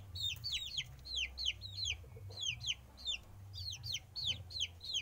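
A Pama-Saigon cross fighting rooster gives short clucking calls in quick repeated bursts, close and fairly quiet over a low rumbling background.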